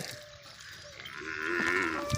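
Cows moo nearby while being herded to water in rural Gujarat, a long low bellow rising in pitch, with faint outdoor background and no talking.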